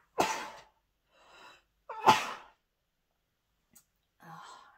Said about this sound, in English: And now I'm going to sneeze.